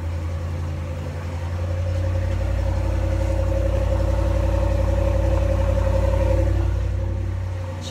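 A small UTV engine idles steadily after a cold start, a low constant rumble that swells slightly and holds, with no one speaking.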